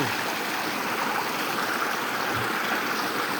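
Water rushes and gurgles without pause at a village spring used as a drinking-water source, steady and close with no voices.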